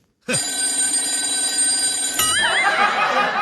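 Phone ringtone chiming steadily and fairly loudly, an electronic warble that shifts pitch partway through before a call is picked up in a short comedy sketch.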